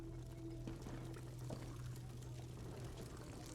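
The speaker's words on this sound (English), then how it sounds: "Take the potion and pour it into the 3 casks." In the Elder Scrolls Online, a potion is poured into casks to brew mead, giving a soft, steady liquid pour that runs throughout under faint game ambience.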